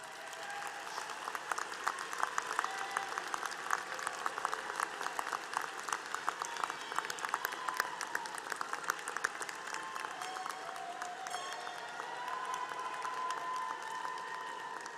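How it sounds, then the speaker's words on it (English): A large crowd at a university commencement ceremony applauds steadily and loudly, a sustained wash of clapping that continues without pause from start to finish. "you give them a rousing round of applause"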